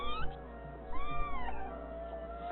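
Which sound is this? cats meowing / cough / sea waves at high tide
cats meowing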